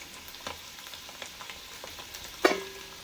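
Paneer potato snacks deep-fry until browned, a faint bubbling sizzle broken by a few light clicks and one sharper metallic clink near the end, heard close and without talk.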